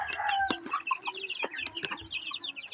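Chickens clucking as they feed, with several short, overlapping clucks and chirps close by, alongside faint pecking and shuffling and no talking.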